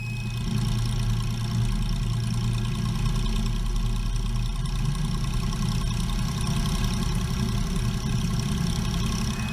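Small aircraft piston engine idling steadily while pulling onto the runway, a loud, continuous low rumble with a throbbing tone throughout, no talk.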